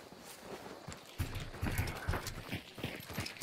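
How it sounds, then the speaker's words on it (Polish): Hooves clip-clop steadily on hard ground in the video game Hunt: Showdown, a moderately close rhythmic walking pattern with faint ambient noise behind it. "Widzisz tego konia?"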